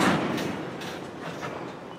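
CSX freight train Q410, led by locomotive 5426 and carrying rebar, rumbles at a crawl as it eases to a stop, a steady low rolling noise with faint clanking of cars, close and continuous.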